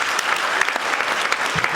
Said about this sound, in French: Ils méritent des applaudissements. Applaudissez encore.